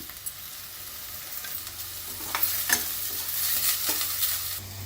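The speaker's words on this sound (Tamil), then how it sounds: "இதை நல்லா வதக்கிக்கணும்" Onion and beetroot sizzle steadily in a hot pan for pav bhaji while a spoon stirs and scrapes now and then, a soft continuous crackle throughout.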